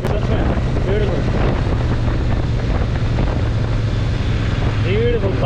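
A Royal Enfield Super Meteor 650 cruiser rides along a highway in India, its engine faint beneath constant, heavy wind roar and buffeting against the microphone, with no break in the noise.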